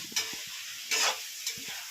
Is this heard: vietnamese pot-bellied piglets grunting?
no